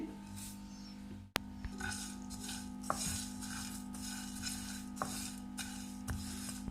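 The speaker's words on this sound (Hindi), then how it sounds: "इसको भी हम थोड़ा सा ड्राई रोस्ट कर लेंगे।" Spices dry roasting in a pan are stirred with a spoon, giving soft scraping and rustling with a few sharp metallic clinks against the pan and a low steady hum behind.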